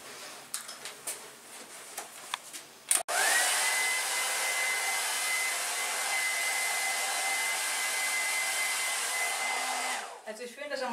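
A hair dryer switches on with a click and blows steadily and loudly for about seven seconds while drying a dog's coat, then cuts off; soft handling taps come before it starts.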